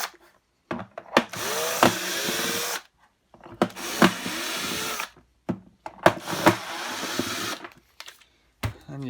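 A power drill removes the outer screws from a Henry vacuum in three separate bursts, each one whirring up and then winding down, close by. Short clicks and handling noises fall in the gaps between bursts.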